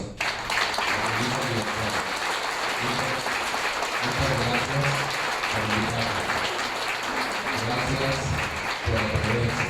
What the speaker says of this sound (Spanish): Y que les pudiésemos dar un aplauso.